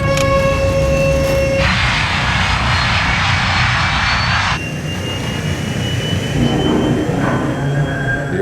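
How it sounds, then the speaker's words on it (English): Airliner engines roaring at full throttle during a wind shear encounter on approach, a loud sustained jet drone with a brighter high whine surging in the middle before easing slightly. "To save the plane, Captain Caviades applies full throttle, burning up more of the plane's precious fuel"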